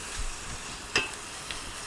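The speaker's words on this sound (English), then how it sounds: "now what I'm going to do is I'm going to add my shrimp" Shrimp sizzle in a frying pan for a broccoli garlic white sauce pasta: a continuous close hiss of frying fills the clip, broken by one sharp clatter as the shrimp hit the pan near the middle, with no talking.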